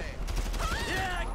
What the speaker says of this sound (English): Who's got a fucking alien gun?